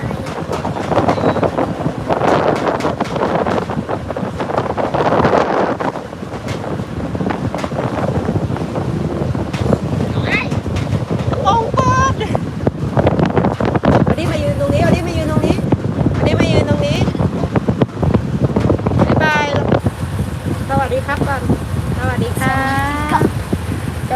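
Ferry boat crossing a river, with heavy wind buffeting the microphone and a broad rushing roar of water and engine, while people talk intermittently over the steady noise.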